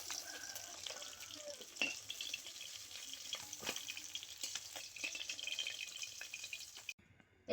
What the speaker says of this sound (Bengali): এবারে আমি বাকি বাটা মাছগুলো ভেজে নেব